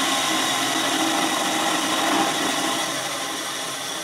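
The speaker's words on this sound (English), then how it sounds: "I am going to put a 1/16 inch hole through one of the fret slots" A 1/16 inch bit boring through a fret slot into a guitar neck, a loud, steady high-pitched whirring and grinding that holds for several seconds before easing slightly toward the end.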